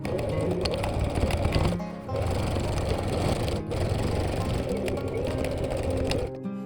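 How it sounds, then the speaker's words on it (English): A sewing machine stitches fabric for a zipped knitting-needle case, a loud steady whirring run with two brief pauses before it starts again, close up and alone. "Pin it in place and sew along the top and bottom lines of the rectangle you just marked."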